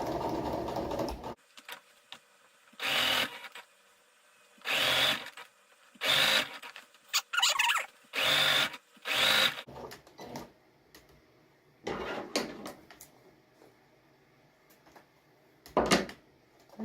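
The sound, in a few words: sewing machine stitching a cushion cover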